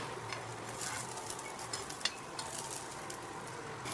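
Puran poli sizzles on a hot griddle over medium heat as ghee is spread on it, giving a steady close crackle with one sharp tap partway through and no talking.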